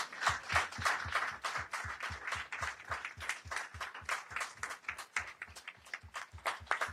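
Clapping at a product leadership meetup, with distinct, fairly sparse claps in a steady rhythm over several seconds, suggesting a modest group rather than a big roaring crowd.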